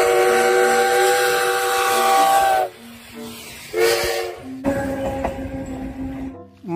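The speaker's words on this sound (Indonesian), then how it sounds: "Kereta Thomas, teman-teman" A toy Thomas train lets out loud whistle toots and hissing steam sounds in several separate bursts, close up, with brief pauses between them.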